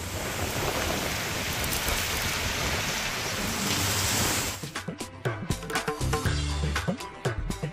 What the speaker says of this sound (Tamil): சுட்டெரிக்கும் வெயிலுக்கு இடையே தமிழகத்தின் பல இடங்களில் மழை